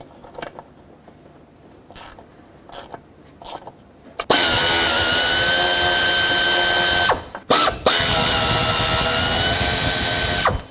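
Ratchet wrench clicks removing the four 10mm bolts that hold the throttle body on a 2007-2010 Chrysler Sebring: quiet, scattered ratcheting at first, then a loud, continuous mechanical whir that breaks off briefly near the end. No talking.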